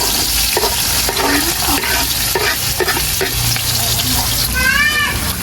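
Garlic, onions, ginger and chili sauté loudly in hot oil, a strong continuous sizzle up close with repeated scraping stirs of a spatula against the pan and a short squeak near the end.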